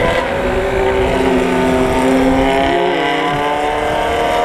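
A loud motorcycle engine with a deep, rumbling aftermarket "knalpot petir" exhaust, revving and droning steadily up close.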